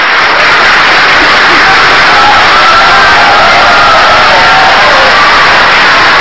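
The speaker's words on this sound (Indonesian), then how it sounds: "Silakan berikan tepuk tangan." Loud, dense crowd noise with cheering and clapping fills the whole stretch, a big audience at an Indonesian presidential and vice-presidential election debate, with some voices mixed into the roar.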